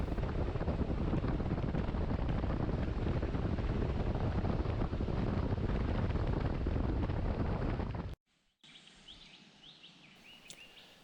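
Motorcycle riding over a rough gravel road, with steady loud wind roar and rumble filling the first eight seconds before cutting off abruptly to a quieter, faint background.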